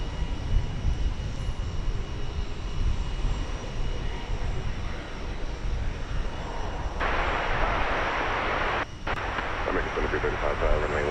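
An Airbus A321neo airliner passes at DFW Airport, a broad steady engine roar that holds throughout and swells louder in the second half, with talk over it.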